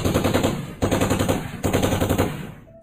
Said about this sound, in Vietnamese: Sau đó lại là tiếng súng liên thanh.